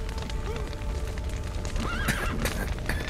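In the video game Witcher 3, several horses trapped in a burning stable neigh and squeal over a dense rumbling roar, their high whinnies sliding up and down, with hooves clattering throughout.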